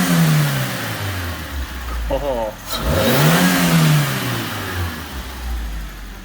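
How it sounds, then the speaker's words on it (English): A Suzuki Swift engine runs close by, rising and falling through a couple of revs over its idle, with a short spoken exclamation near the middle. "Right, we got it running. So let's hear it."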